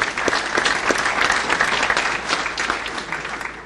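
Audience applause at a city's 2011 State of the City address, a full, continuous burst of clapping from a large crowd, fairly loud and steady before tapering slightly.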